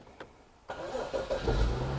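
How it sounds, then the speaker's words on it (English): A BMW 640i catches and starts after an intermittent no-start fault: a brief cranking burst, then the engine fires at about the halfway mark and settles into a steady, fairly loud idle close to the microphone, with no talking over it. "So right there, the engine started."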